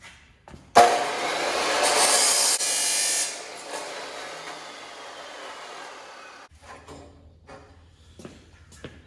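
A cutting tool slicing through a 3 inch by 1/8 piece, 5 feet long, starting abruptly with a loud, harsh whine that eases off over several seconds, then stops and gives way to quieter handling knocks.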